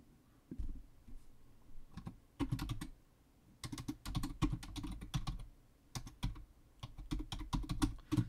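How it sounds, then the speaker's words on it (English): Keys clatter in uneven bursts of typing on a computer keyboard, with short pauses between quick runs of clicks, close and fairly quiet. "if I type out this word here"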